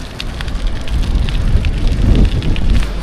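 Strong wind buffets the microphone outdoors, a loud, close, continuous rumble that swells toward the middle.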